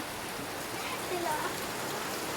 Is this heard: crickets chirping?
no